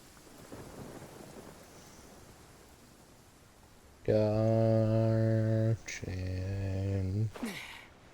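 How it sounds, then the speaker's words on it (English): Steady rain and low thunder rumble through a stormy scene in the video game Genshin Impact, then loud sustained tonal game sounds cut in over the weather for the last few seconds. "Why is it still raining?"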